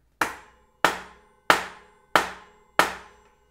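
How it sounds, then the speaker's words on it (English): Five evenly spaced, sharp hammer taps strike a SRAM DUB bicycle crankset adjuster ring through a soft protective piece, each a close, crisp knock with a short ringing decay, alone without talk. "you're gonna hit it right here on the other side with a hammer"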